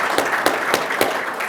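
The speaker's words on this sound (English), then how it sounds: "let's give them a big round of applause" An audience at a panel discussion applauds the panelists, a moderate wash of clapping with a few louder rhythmic claps standing out.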